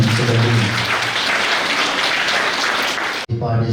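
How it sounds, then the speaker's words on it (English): A school audience at an Independence Day inter-house competition claps loudly and continuously for the participants, with a voice over the clapping early on, then an abrupt cut near the end. "So I request every one of you to give a big round of applause to all"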